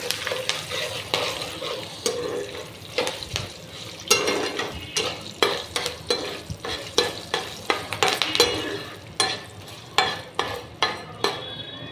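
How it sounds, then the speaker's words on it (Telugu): Fresh curry leaves crackle and sizzle in hot tempering oil for mango pulihora, with a spoon scraping and stirring the pan in regular strokes over a continuous close frying hiss. "కరివేపాకు లేతది వేసుకోవాలండి అట్లా చిటపట అంటే బాగుంటుంది"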